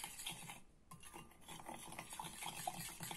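Puffy paint mixture is stirred in a bowl, giving soft rhythmic scraping and rubbing strokes with a brief pause near the start, quiet and close.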